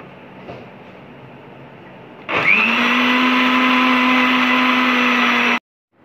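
A mixer grinder grinding ginger, garlic and spices into a paste starts after a quiet moment, whirring loud and steady for about three seconds, then cuts off abruptly.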